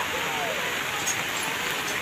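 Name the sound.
heavy nonstop rain during typhoon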